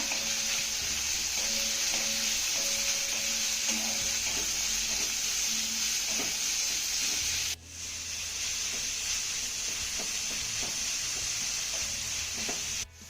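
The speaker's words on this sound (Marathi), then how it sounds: "यामध्ये आपल्याला एक उभा चिरलेला कांदा घालायचा आहे कांद्यानं आपण चांगला मौसूट होईपर्यंत परतून घेऊया" Vertically sliced onion sautéing in a pan for a bitter gourd dish, a steady bright sizzle close up with occasional scraping stirs and a brief break in the hiss partway through, no one speaking.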